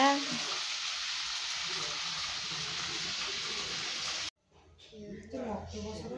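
Food frying in a pan gives a loud, even hiss that stops abruptly partway through, after which a person talks quietly.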